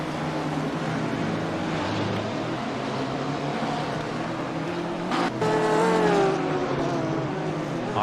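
GT3 race cars, a McLaren, BMW and Aston Martin among them, roaring through a turn at the Nürburgring in a sim racing game, with layered engine drones and a rising high-revving pass late on, moderately loud with no talk.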